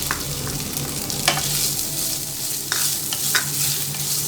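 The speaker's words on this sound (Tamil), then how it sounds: "அது கூட 1/2 கப்பு துருவி வச்சு தேங்காயும் சேர்த்து வறுத்துக்கலாம்" Green chillies and grated coconut fry in a pan for mint chutney, giving a steady close sizzle broken by a few sharp scraping stirs, with no voices.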